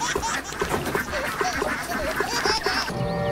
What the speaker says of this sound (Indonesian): Ini bebek, teman-teman.